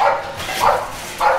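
Three sharp, loud dog barks ring out at a kennel, spaced roughly half a second apart with short pauses between, and no talking underneath.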